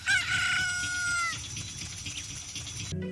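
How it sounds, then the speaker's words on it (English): A rooster crows at sunrise in Zelda: Ocarina of Time, one loud, close cock-a-doodle-doo in the game's stylized sound, trailing off before a brief new sound cuts in at the end. "the rooster call as the sun rises is goofy"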